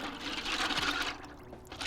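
Filter biomedia from a Fluval FX4 canister filter is rinsed in a bucket of tank water, giving a close, continuous splashing and sloshing that eases off briefly toward the end.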